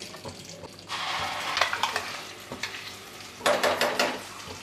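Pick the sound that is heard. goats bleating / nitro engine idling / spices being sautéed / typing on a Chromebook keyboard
spices being sautéed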